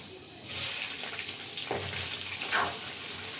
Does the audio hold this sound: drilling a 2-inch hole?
no